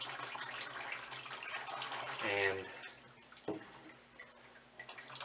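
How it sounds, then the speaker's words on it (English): Thick bourbon mash pours and splashes through the holes in a bucket during home whiskey making, a wet sloshing run with a brief louder gush and a single knock, mid-distance, with a short spoken word. "If I just stir around where the holes are in that bucket, the stuff pours through pretty good."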